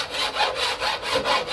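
A hand file rasps back and forth along the edge of an ABS plastic snorkel during installation on a Jeep JK, loud close strokes in a steady rhythm of about five passes with no talk.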